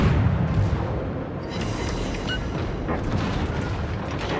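Naval ship guns fire in World of Warships as heavy, rumbling booms with long rolling tails, blending into a continuous loud battle roar of salvos and explosions, no voices over them.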